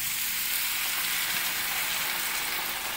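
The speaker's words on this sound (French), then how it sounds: "On ajoute les tomates confites, puis on ajoute environ un quart de tasse de vin blanc." White wine poured into a hot pan with candied tomatoes for a pasta dish, producing a loud, steady broadband sizzle and frying hiss that continues without a break and with no talking.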